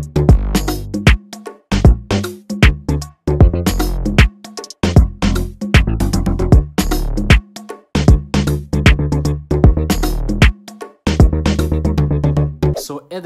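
Deep, punchy layered synth bass notes in an African trap beat hit in a bouncy rhythmic pattern with short gaps, layered and loud, with no one talking.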